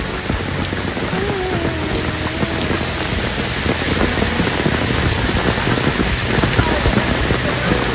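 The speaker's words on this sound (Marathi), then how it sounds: "आता पाऊस जसा आला" Steady rain pours down, a dense close patter on surfaces that stays even throughout, with a faint voice briefly audible beneath it.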